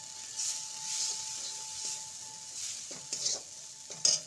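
A spice and semolina mixture with garam masala being stirred in a pan, a quiet continuous sizzle with soft scraping strokes and a few sharper spoon taps near the end.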